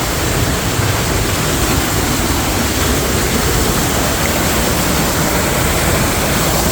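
Spring water gushing out of rock at a river head, a steady dense wash of rushing water that stays loud and unbroken throughout, with no voices.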